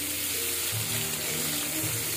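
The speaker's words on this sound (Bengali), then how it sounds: "পেঁয়াজটা ভাজা হয়ে এসছে" Onions fry in white vegetable oil with a steady, close crackling sizzle that holds through the clip, with low hums beneath and no talking.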